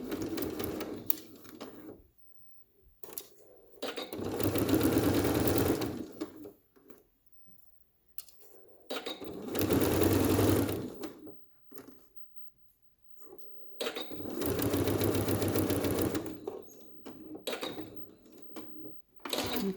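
A sewing machine stitches a fabric face mask in three separate bursts of rapid mechanical whirring and clatter, with quiet pauses between the runs.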